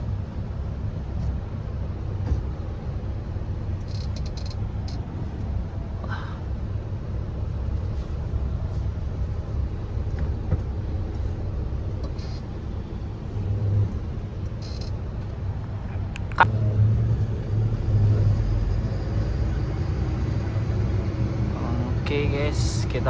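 A car rolling slowly into a full parking lot, a low, steady engine rumble with wind noise and occasional faint knocks, with muffled voices in the cabin.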